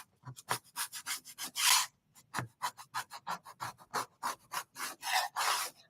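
Repeated scraping and rubbing strokes during a bee-themed craft project, a steady run of close, rasping back-and-forth scrapes with short gaps, heard alone.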